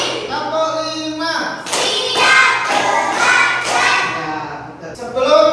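Young pupils in a classroom finish a counted clapping chant with several loud, close bursts of group claps, and a teacher's voice comes before and after.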